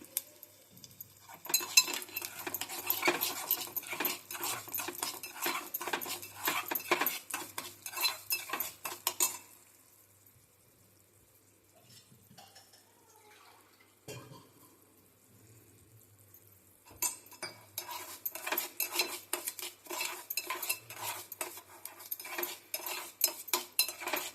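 Garden cress (halim) seeds roasting in ghee in a pan, a dense rapid crackle with spoon scraping and clinking that pauses for several seconds in the middle, then resumes, close and moderately loud.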